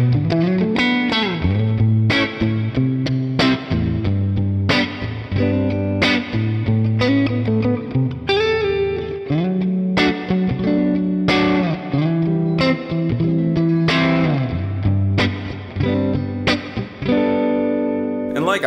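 Electric guitar played through a Vox amp and pushed harder into light breakup, with strummed chords and picked notes ringing continuously, loud and up close with a slightly gritty, effected edge and no voices.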